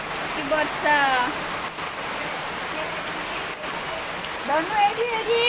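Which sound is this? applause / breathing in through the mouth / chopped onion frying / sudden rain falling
sudden rain falling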